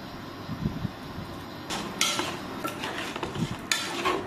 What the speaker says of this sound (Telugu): ఇప్పుడు మనం వేసుకున్న ఉప్పు, కారం, పసుపు అన్నీ పీతలకు పట్టే విధంగా బాగా కలుపుకోవాలి.